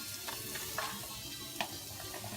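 Onions and peppers frying in a hot pan, a steady quiet sizzle with faint crackles and a few soft ticks, no voices.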